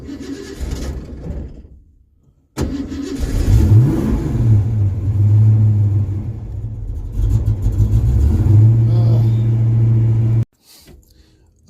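A Ford Mustang engine running rough and not drawing fuel well on a cold day, starting with a loud rumbling roar that holds unsteadily for several seconds and then cuts off abruptly.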